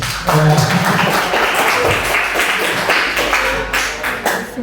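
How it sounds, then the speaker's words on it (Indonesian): Students in a classroom clapping during a coding lesson, a burst of quick, uneven handclaps mixed with chatter and voices. "Berarti kalian harus tepuk tangan karena saya memang pesulap nanti."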